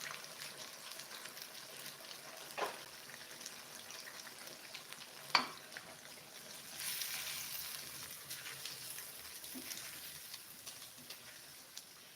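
Pieces of chicken breast and wing fry in a pan with a steady, faint sizzle, broken by a couple of sharp clinks and stirring sounds as they cook.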